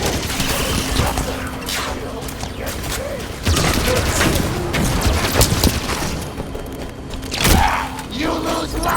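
Sustained sci-fi gunfire and booming impacts in the shooter Halo 5: Guardians, loud overlapping volleys and cracks filling the scene with a few heavier blasts.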